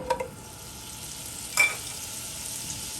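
Butter melts into about three tablespoons of hot oil on medium-high heat, giving a faint, steady sizzle, with a couple of light clinks at the start and one brief scraping swirl of the pan.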